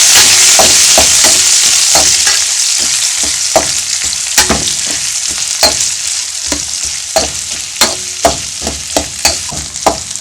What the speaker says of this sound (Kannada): ಈಗ ಈರುಳ್ಳಿ ಹಾಕಿ ಚೆನ್ನಾಗಿ ಫ್ರೈ ಆಗಬೇಕು